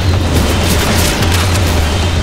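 A sustained, very loud booming roar from a grenade blast in Left 4 Dead, with dense low rumble filling the whole stretch at close range and no talk.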